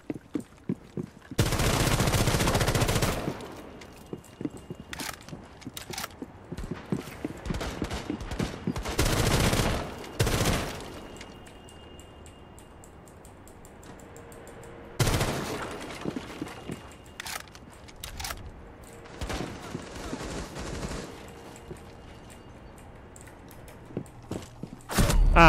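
Gunfire in the video game Rainbow Six Siege comes in several loud sustained bursts and single cracks, separated by quieter stretches of footsteps and movement.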